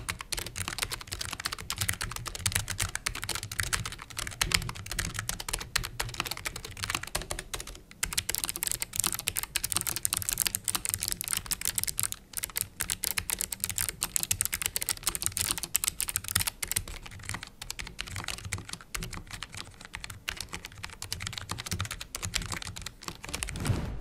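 Continuous rapid typing on a Logitech G915 Lightspeed wireless full-size gaming keyboard with low-profile switches and keycaps, a dense, steady patter of soft key clicks held close for the whole stretch.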